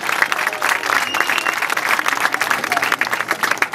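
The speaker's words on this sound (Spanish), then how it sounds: "Les pido un caluroso aplauso." Warm, sustained applause from a seated audience fills the room for an honoured guest at a public event in Los Cabos, a thick, even roar of many clapping hands, close and loud throughout.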